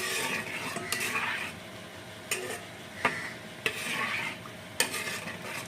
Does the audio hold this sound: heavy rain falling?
no